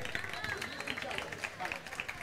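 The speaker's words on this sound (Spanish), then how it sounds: "¡Un fuerte aplauso para él!" Audience applause greets a chef arriving at a live cooking show, a steady dense patter of many hands clapping with some crowd murmur mixed in, fairly distant and continuous throughout.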